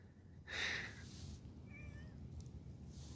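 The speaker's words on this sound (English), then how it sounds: "The cat is really distracting me" A cat meows once, fairly close and clear, followed by a couple of fainter mewing calls over steady low background noise outdoors on a rural property.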